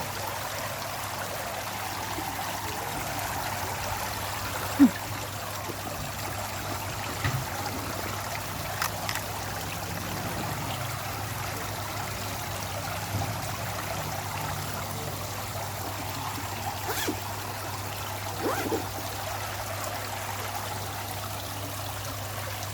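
A small decorative waterfall inside a shop in Ubon gives a steady, even trickle and splash of running water throughout, with a faint low hum beneath and no voices.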